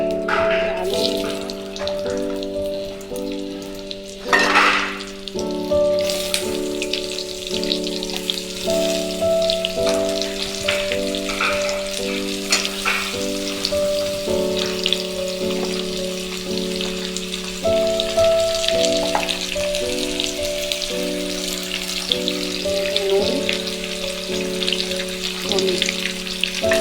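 Potatoes frying in oil with a cumin tempering give off a steady, moderately loud sizzle that runs throughout, beneath continuous background music.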